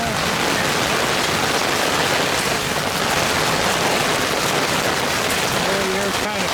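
Steady heavy rain pours over rooftop solar panels near Lake Buena Vista, a dense continuous hiss of water on the surfaces lasting throughout, loud and close, with no voices.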